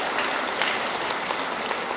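Dense, steady applause from an audience at a lay Catholic retreat lecture in Seoul, filling the whole moment at an even level with no voices heard above it.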